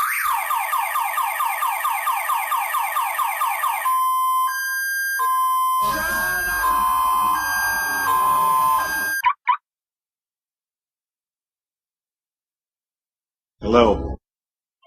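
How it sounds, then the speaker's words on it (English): A car alarm blares close and loud, first with rapid repeating pulses, then switching through steady and warbling tones before cutting off abruptly, followed by a brief burst of sound near the end. "Your alarm went off in your car."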